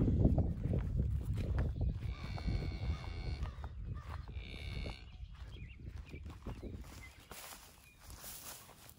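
Low, drawn-out cattle moos sound from a herd nearby, mixed with shuffling hooves and rustling movement, fading somewhat toward the end.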